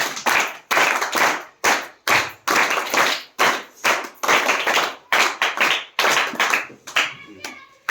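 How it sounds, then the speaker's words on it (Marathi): An audience claps through a Marathi stage program, cheering someone on. The applause comes in repeated loud bursts with short gaps between them, and the hand claps sound close and dense. "त्यांच्यासाठी आपण जोरदार टाळ्या वाजवूया"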